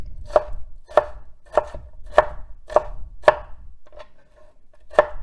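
A knife dices an onion on a cutting board in steady, crisp chops, about eight sharp knocks spaced roughly half a second apart with a brief pause near the end, close and clear with no talking.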